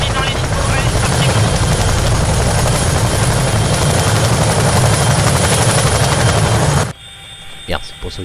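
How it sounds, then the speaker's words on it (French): A military helicopter's steady, loud rotor and turbine roar fills most of the clip close by, then cuts sharply to a quieter cabin hum with faint thumps near the end. "on va rentrer assez vite dans l'hélico"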